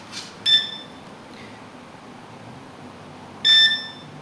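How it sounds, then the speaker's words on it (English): Hand-held metal detector giving two short electronic beeps, about three seconds apart, each a bright, clean tone with harmonics, over a quiet background. "Also available at Spy Shops is the metal detector."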